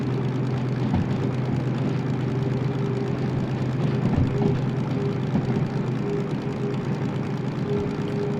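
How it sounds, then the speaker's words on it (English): Steady droning engine of a train locomotive in the Derail Valley simulator game, a continuous low throbbing hum with a buzzing, aircraft-like rotary quality, loud and unbroken throughout. "Sounds like a rotary engine."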